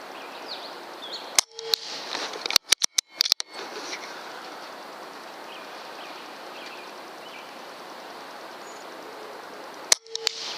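An air rifle firing Air Arms Diabolo Field 16-grain pellets, with sharp snapping shots in a quick irregular cluster over the first few seconds and one more crack near the end, all against a quiet outdoor background.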